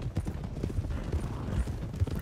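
Horses clip-clop along steadily in Red Dead Redemption 2, a dense, close rhythm of hoofbeats on a dirt trail with low background rumble.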